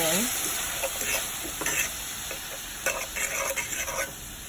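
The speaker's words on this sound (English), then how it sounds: "I'm just giving it a nice little stir" Crab meat filling with its other ingredients is stirred in a frying pan, giving a steady close sizzle broken by repeated scraping stir strokes.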